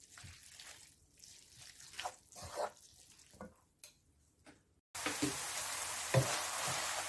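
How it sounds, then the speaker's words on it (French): Pad thai noodles are stirred through sauce in a hot pan: soft scraping and tossing strokes at first, then a steady, brighter sizzle that fills the background. "Là, les nouilles, on tourne, on tourne."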